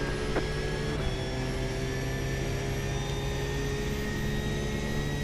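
A GT3 race car engine runs at full throttle in an iRacing sprint race, holding a sustained, even, high-pitched drone with no let-up and no talking.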